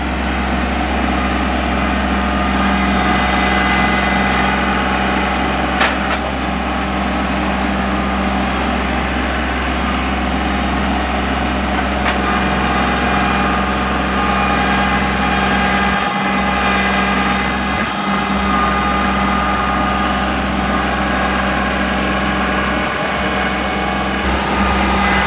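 The engine of a Kubota 3301 compact tractor runs steadily throughout, a loud continuous low drone with a few brief knocks, heard outdoors while skidding big wood with no one talking.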